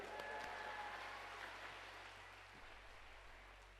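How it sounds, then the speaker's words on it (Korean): Congregation applauding a pastor as he comes forward at a national prayer rally, a broad sustained wash of clapping that fades slightly toward the end, heard from a distance. "박수로 맞이하겠습니다"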